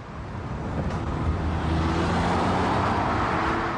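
A turbo-less Porsche 911 engine at about 14 mph in town, a steady low rumbling drone heard from inside the car, continuous and fairly loud with no talking.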